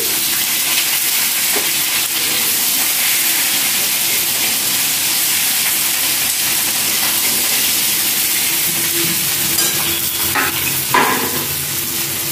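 Hot oil sizzles steadily in a pan while egg biryani is cooked, a dense continuous frying hiss with occasional stirring clinks near the end, close and fairly loud, with no talking.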